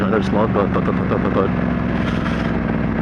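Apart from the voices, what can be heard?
motorcycle exhaust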